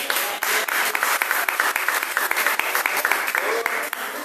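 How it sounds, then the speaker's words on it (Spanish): Church congregation applauding, many hands clapping in a rapid, lively rhythm with distinct individual claps standing out, sustained at moderate volume for several seconds. "Vamos a darle un aplauso."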